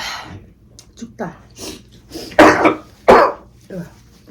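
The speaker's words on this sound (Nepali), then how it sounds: "पिरो खायो भने यस्तरी सर्किन थालिहाल्छ" Coughing and choking from a person eating extra spicy Nepali street food such as pani puri and ramen, several harsh bursts in a row, two loud close coughs in the middle, with breathing and throat sounds between.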